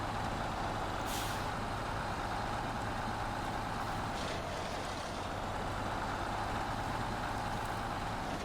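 A heavy truck engine drones steadily and loudly in the SnowRunner off-road game. Air brakes hiss sharply twice during the run.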